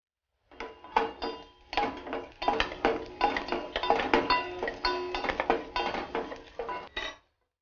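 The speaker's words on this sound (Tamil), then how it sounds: "இப்போ நம்ம வெள்ளைப்பூண்டும் நம்ம எண்ணெயில வதக்கி எடுத்து வச்சிட்டோம்." Garlic sautéing in oil in a pan, heard as a busy run of close metallic scrapes and clinks from a utensil stirring against the pan, steady and fairly loud for several seconds before stopping.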